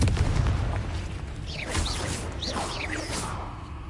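The Confringo explosive spell cast in Hogwarts Legacy, a loud booming blast at the start followed by whooshing magical swirls and rumbling impacts fading over a few seconds.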